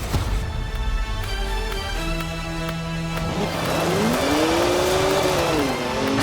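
A BMW 1M driven in the Forza Horizon 4 game, its engine droning steadily and then climbing in pitch as it revs and accelerates, loud and close, with no talk over it.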